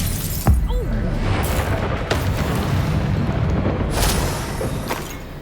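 Bombarda blast spell going off during combat in the video game Hogwarts Legacy, a loud shattering boom with a sharp crack near the start, followed by sustained rumbling battle noise and further impacts.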